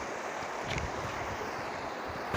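Fast-flowing glacial meltwater stream rushing steadily and loudly while being crossed on foot along a mountain trek, a continuous broadband roar with some wind buffeting on the microphone and no talking.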